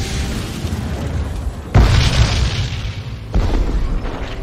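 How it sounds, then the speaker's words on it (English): A medieval bombard cannon fires in Age of Empires IV during the Hundred Years' War, with heavy booming blasts that rumble on, and a fresh loud report crashing in twice over a dense, continuous roar. "The bombard was no more powerful than a trebuchet, but it did have a psychological impact on the enemy."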